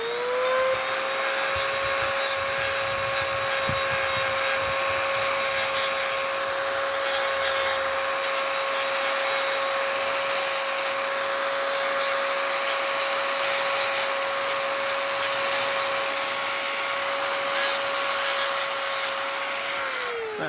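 A Dremel rotary tool grinding and cleaning up a Glock 43 magazine, a close, high steady whine held for about twenty seconds with faint rubbing against the polymer.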